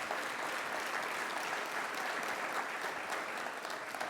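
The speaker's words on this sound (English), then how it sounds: "that's worth a round of applause." At a university campus grand opening, an audience gives sustained, dense applause that holds steady for several seconds with no pause.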